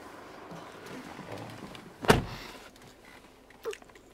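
Electric window motor whirring briefly on a Mercedes-Benz ML250 CDI BlueTEC, with a sharp thump near the middle and a smaller knock shortly after, fairly close and otherwise quiet.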